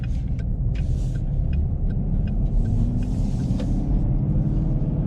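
Car with a skip-shift function driving in first gear, a steady low engine and road rumble continuing throughout with a faint rise in pitch, heard from inside the cabin with no talking.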